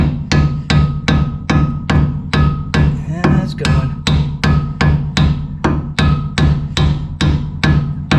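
Steady, evenly spaced metal hammer blows strike a disc brake caliper during a brake conversion on a rare 1960s muscle car, roughly two hits per second, loud and close, with a brief remark from a man partway through.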